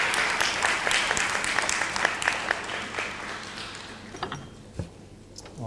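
Conference audience applauding speakers at a library event, a dense burst of clapping that gradually thins out and fades toward the end.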